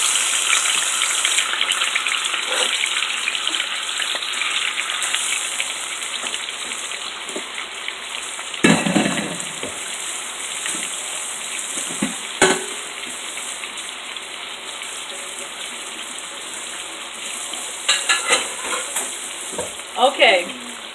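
Pork chops fry in a pan with a steady, loud crackling sizzle that runs throughout, broken by a few clatters and scrapes as the chops are moved and stirred.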